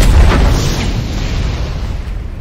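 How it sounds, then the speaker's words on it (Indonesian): A loud, deep explosion booms right away, its heavy low rumble slowly fading over the next couple of seconds. "Tiba-tiba sebuah ledakan dahsyat terjadi."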